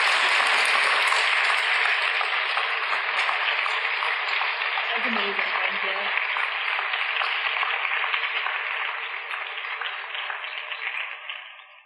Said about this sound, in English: Should we give Jesmyn a round of applause?